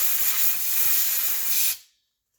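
Blower tool spraying a steady, loud hissing blast of air over the engine area of a 1993 Grand Am during alternator work, lasting under two seconds before cutting off abruptly into silence.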